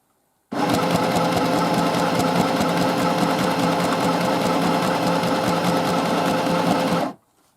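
Mini sewing machine stitching at full speed, a loud, close, continuous rapid mechanical chatter that starts abruptly, runs steadily for about six and a half seconds with no voices, then stops.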